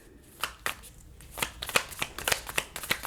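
New tarot cards are shuffled up close, their crisp riffling snaps and flutters repeating quickly in a brisk rhythm.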